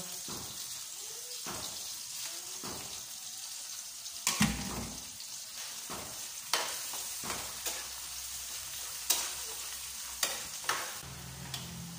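Shrimp paste (alamang) sautéing in a pan, a continuous sizzle with repeated scraping stirs and sharp utensil knocks against the pan.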